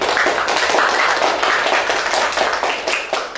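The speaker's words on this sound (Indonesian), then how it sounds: "tepuk tangan untuk kelompok 3" A primary school classroom full of people claps together in steady, dense applause for a few seconds, with no talking.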